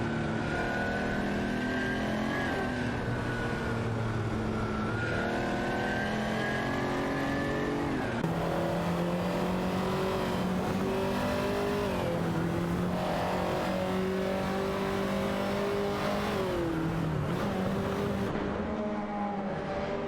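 Several race cars in an AI racing video game accelerate and rev continuously, with loud layered engine notes rising and shifting in pitch through gear changes over twenty seconds, with no talking.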